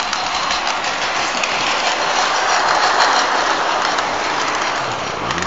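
Model trains run on a home layout in a continuous, loud rumbling clatter that holds steady for several seconds without any voices.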